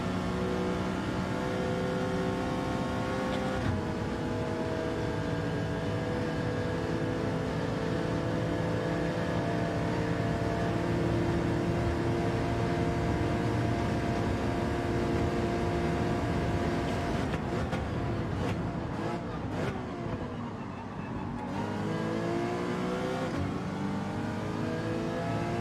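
Engines of a Porsche Cayman and a BMW race car in Gran Turismo 7 drone steadily at high revs for a long stretch, then rise and fall sharply through gear changes near the end.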